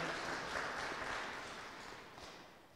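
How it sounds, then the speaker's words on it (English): A church congregation applauds Jill after her sharing at a Sunday service, a dense, steady wash of clapping that slowly fades toward the end. "Should we give Jill a round of applause?"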